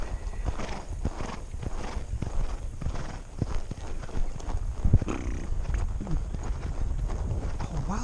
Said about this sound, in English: A wild bucking pony machine.